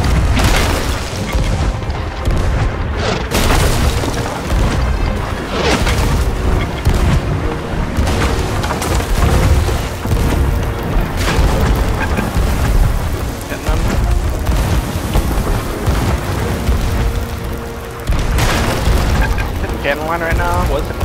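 Booming cannon fire from ships in a pirate galleon video game thunders continuously through a dense, loud battle din, with repeated heavy blasts layered over rumbling background.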